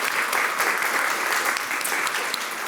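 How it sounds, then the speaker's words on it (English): An audience claps steadily throughout a short stretch of applause at a talk on teaching reading comprehension, dense and even with no voices over it. "So please give them a round of applause."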